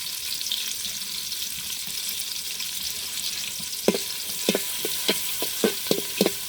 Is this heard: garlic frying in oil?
yes